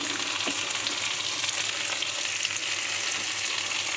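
Mixed vegetables for Bengali chorchori fry in a pan with a steady, dense sizzle and crackle throughout, close and fairly loud, with faint stirring clicks and no talking.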